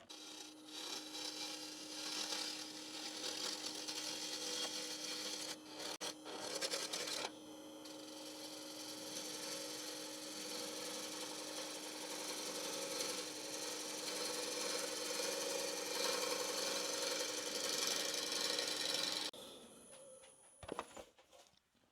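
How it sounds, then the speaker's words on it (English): Wood lathe making a finishing cut on the outside of cracked wooden bowls, a continuous motor hum under a dense scraping hiss of the tool, steady for about twenty seconds before stopping with a few knocks. "So I'm just going to give a final finishing cut on the outside of the bowls here"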